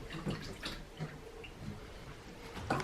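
Soft splashes and drips of bathwater as a newborn is washed at home, faint and intermittent with small trickles and taps.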